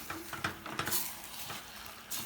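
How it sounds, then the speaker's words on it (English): Parsley sautéing in a pan for homemade pizza sauce gives a quiet, soft sizzle broken by a few light stirring scrapes and clinks, fairly faint and close, with no talking. "And now I'm going to put my parsley at the same time. I'm going to just let it saute for 2 minutes."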